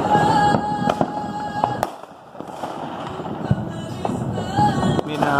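Fourth of July fireworks bursting over Chicago at night, several sharp booms and crackles spaced across the stretch, fairly loud with wind noise on the microphone and no voices.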